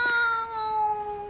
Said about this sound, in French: Oh, le pauvre petit minou.